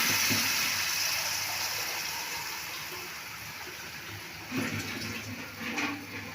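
Water is poured into a pot for rice pilaf, a continuous splashing pour that gradually settles, with a few small knocks and clinks of the vessel near the end.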